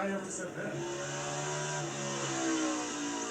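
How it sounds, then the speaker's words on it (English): A NASCAR race car accelerates off a corner, its engine note climbing in a rising roar at a distance, heard under a commentator talking. "That car is really handling well, accelerating straight up off the corner."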